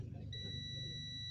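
A loudspeaker horn driver unit under repair gives a steady high beep test tone that begins a moment in and holds, thin and quiet over a low rumble.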